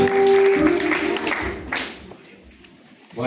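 Audience applause welcoming the MCSK national chairman, a loud burst of clapping that swells at the start and gradually fades, with a sustained tone underneath.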